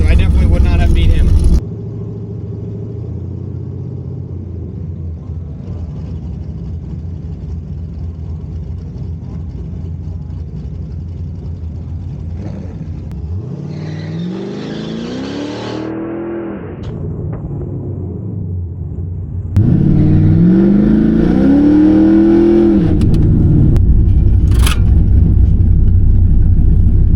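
An LS2-swapped El Camino revs hard at a drag strip on the night's final pass, the engine note climbing in rising sweeps over a constant loud rumble, with a voice talking over it.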